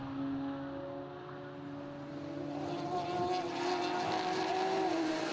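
Radical race cars sweep right and left through the chicane at Donington, engines whining at a steady high pitch from a distance, then a rising, louder rush as they accelerate out toward the timing line.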